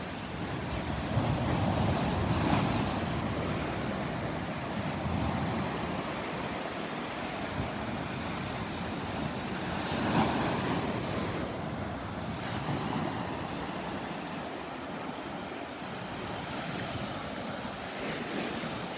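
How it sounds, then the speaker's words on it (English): Surf breaking on the outer edge of a sandbar at Delnor-Wiggins beach, a continuous wash of crashing waves with gusty wind rumbling across the microphone, moderately distant and steady, with no voices. "The waves breaking on the outer edge of the sandbar there."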